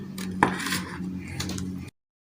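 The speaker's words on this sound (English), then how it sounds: "Then we mix all the ingredients together." Utensils clink and scrape against a bowl while black soap ingredients are mixed together, a brief run of close metallic knocks and scraping that ends abruptly in silence.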